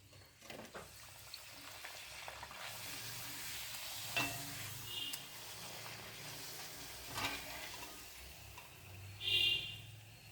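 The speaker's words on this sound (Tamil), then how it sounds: "இந்த மாதிரி ஒவ்வொரு பூரியாக பொரித்து பார்க்கலாம்." Surul poli puris fry in oil, giving a soft, fairly quiet sizzle with occasional louder bubbling swells and light clicks of handling.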